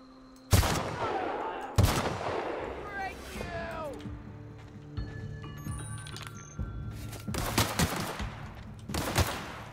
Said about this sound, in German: Jetzt noch ein Gegner, auf den ich jetzt mal schießen könnte mit dieser geilen Flinte